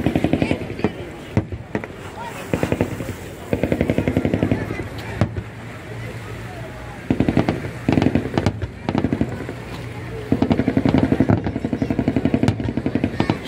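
Naval guns firing during a mock sea battle at a navy parade in Odesa, booming reports arriving from roughly 300 metres off, repeated in bursts among crowd noise, with people talking nearby.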